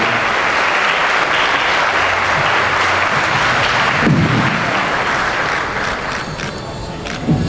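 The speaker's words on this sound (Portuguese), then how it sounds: "Uma salva de palmas aí, a senhora Rosângela, parabéns" A crowd at a lecture in Maringá gives Mrs. Rosângela a loud, dense round of applause that holds steady for several seconds, with a faint voice briefly coming through near the end.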